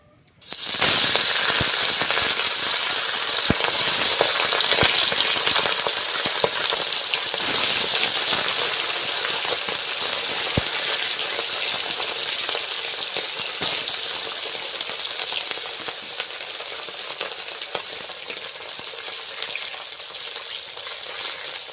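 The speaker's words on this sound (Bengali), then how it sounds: "তেল গরম হয়ে গিয়েছে তো গরম তেলে মাছটা আস্তে আস্তে দিয়ে দেয়" Fish being lowered into hot mustard oil sets off a sudden, loud, rain-like sizzle that holds steady and close for over twenty seconds. Scattered pops and crackles run through it, and it fades only slightly toward the end.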